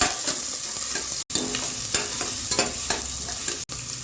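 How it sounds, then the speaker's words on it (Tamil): Chopped onions sautéed in a pan until browning, a steady close sizzle of frying with repeated scraping stir strokes and two brief cuts to silence. "சேர்த்துட்டு நல்லா ப்ரௌனிஷாக வதக்கணும்."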